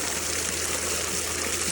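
Water rushing out during a backwash of a DE pool filter, a loud, steady broadband gush with no breaks across the short stretch.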